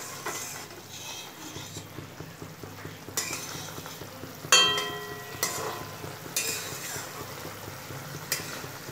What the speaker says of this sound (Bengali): আমি এর উপরে একটু কাঁচা সরষের তেল দিয়ে দিচ্ছি হালকা ভাবে নেড়ে দিচ্ছি